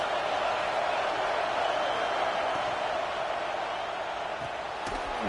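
Stadium crowd noise in a college football video game, Penn State vs Tennessee, a steady, broad roar heard throughout with a faint thump near the end.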